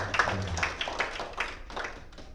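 Applause for a presenter at an Indonesian micro-teaching feedback session: a short, fairly quiet patter of hand claps from a small group, with scattered uneven slaps over about two seconds.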